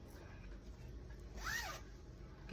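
A zipper on a dress being sewn is handled quietly, with soft rustling and one brief zip pull near the middle, close but faint.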